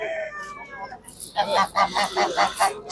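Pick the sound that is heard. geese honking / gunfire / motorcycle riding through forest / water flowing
geese honking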